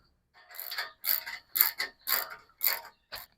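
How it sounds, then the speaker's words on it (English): Gazebo truss pieces being bolted together during Yardistry Contemporary Gazebo assembly, giving six or seven close, distinct bursts of ratcheting and metallic clicking in an irregular rhythm with short pauses between, fairly quiet and free of talk. "Now I'll just bolt this together."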